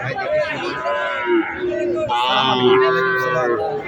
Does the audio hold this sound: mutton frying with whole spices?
no